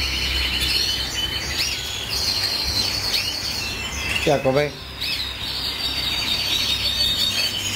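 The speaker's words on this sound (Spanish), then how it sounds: "Se tira ahí el pájaro." A caged bird chirps and squawks close by in a breeding setting, with busy chirping through much of the clip and a louder squawk midway, while a person briefly speaks.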